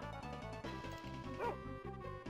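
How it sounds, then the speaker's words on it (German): A dog barks in a steady, regular run of short repeated barks in the video game Tales of Phantasia, set against game music. "Hund!"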